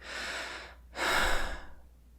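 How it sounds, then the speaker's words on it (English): Two audible breaths in a chest breathing demonstration during a calm ASMR breathing session, a softer inhale followed after a short pause by a fuller, louder breath, close to the microphone with no talking. "let me demonstrate chest breathing"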